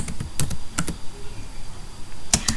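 Clattering computer keyboard keystrokes while a C program is written, arriving in short irregular bursts of crisp clicks separated by brief pauses, close and clear.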